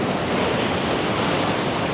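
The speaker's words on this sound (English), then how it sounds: "The occasional big wave comes through and splashes over." Surf surges and splashes over rocks at Moffat Beach, a brief, close, continuous wash of water with wind across the microphone.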